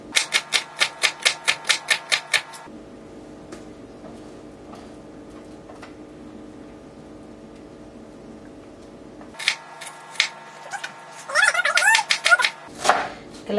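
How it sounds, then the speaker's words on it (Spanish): A knife chops onion finely on a board for Mexican green sauce, with a quick run of about a dozen crisp, rhythmic taps at the start, a quieter stretch, then more bursts of chopping toward the end, close and distinct. "Que la cebolla quede bien finita."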